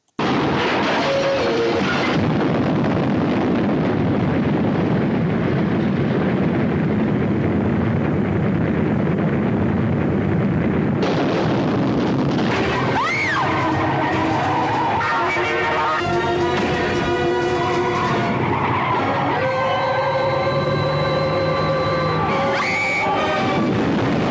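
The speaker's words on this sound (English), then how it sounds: "can you survive these explosions?" Movie explosions from the 1979 film Death Car on the Freeway: a loud, roaring blast with rushing, wind-like noise builds and sustains, followed by whooshing debris and crackling, tonal effects layered over it.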